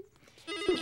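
A telephone bell starts ringing from inside a drawer after a brief quiet moment, a rapid metallic trill that continues to the end.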